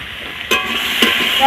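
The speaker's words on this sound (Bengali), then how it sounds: "আমি একটু হালকা হালকা জ্বালন দিয়ে লাউটা ভাজা করছি" Bottle gourd fries gently in a pan on low heat, with a steady quiet sizzle broken by two brief scraping stirs of a spatula, heard up close without speech.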